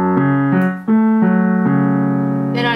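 Piano playing a song, a slow, sustained melody of a few clear, ringing notes over a held left-hand tone, loud and close with no talk.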